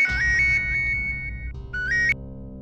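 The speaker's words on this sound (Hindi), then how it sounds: "किसका फोन बज रहा है?" A phone ringtone plays a bright repeating electronic melody, pausing briefly and then sounding again before cutting off.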